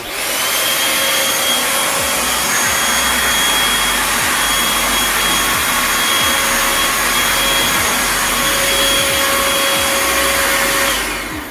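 A cordless stick vacuum used in handheld mode sucks up crumbs, its motor roaring loud and steady from start to finish, with a constant whine over the airflow and no voices.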